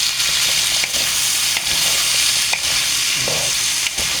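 Vegetables frying in a pan for lumpiang hubad, stirred steadily with a utensil: a constant close sizzle with scraping strokes and light clanks against the pan, no talking.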